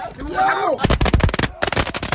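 Firecrackers go off in a rapid crackling burst of loud bangs, with a brief pause before another string of pops; a voice shouts over the start.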